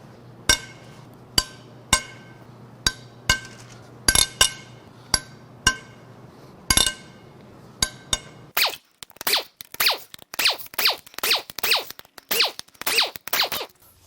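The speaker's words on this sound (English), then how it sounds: "Now it's time to crack the head bolts loose." Sharp metallic clinks and clicks from tools breaking loose the head bolts on a Mitsubishi 4B11T turbo engine from a Lancer Evo X during a teardown, spaced single knocks at first, then a faster run of ratcheting clicks, close and clear with no talk.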